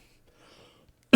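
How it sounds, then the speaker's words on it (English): One short, sharp cough bursts out at the very end after near-silence. "I just have a cough."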